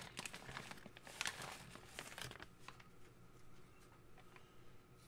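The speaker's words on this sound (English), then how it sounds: "Just take this out the plastic bag." Plastic bag crinkling as a new Beretta 92X full-size pistol is unboxed, with dense crackly rustles over the first two and a half seconds, then fainter scattered crinkles.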